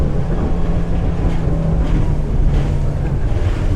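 A 2023 Thunderjet 200 Luxor boat with a Mercury 225HP outboard runs at full speed, its loud engine roar blending with heavy wind buffeting and rushing water.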